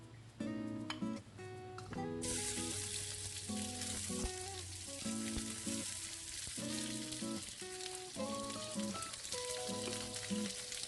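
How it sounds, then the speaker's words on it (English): Sliced onion rounds sauté in a pan, giving a continuous close sizzle that runs steadily under background music, with no talking. "We start by sauteing the sliced onion."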